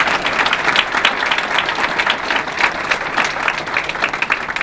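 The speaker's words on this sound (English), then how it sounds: "So if we could have a round of applause for all of those folks as well." Audience at a Martin Luther King Jr. unity breakfast gives a round of applause, a dense, sustained burst of clapping from a large room that holds steady throughout.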